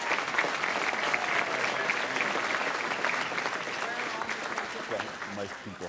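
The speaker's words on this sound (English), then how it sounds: "Give him a round of applause." An audience at a Las Vegas city council ceremonial session gives sustained applause, a close, even clatter of many hands that holds steady for several seconds, with some voices faintly mixed in.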